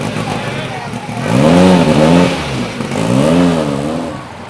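Ford Escort RS2000 Group B rally car engine revving twice in rising and falling surges before pulling away, loud and close at a classic rally car gathering in Accrington.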